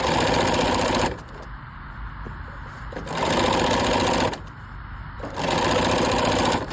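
A sewing machine stitches a tiny rolled hem for a gathered lampshade skirt. Three loud, close bursts of rapid mechanical whirring are separated by short quieter pauses.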